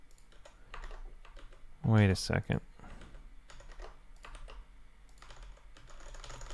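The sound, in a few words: typing on a computer keyboard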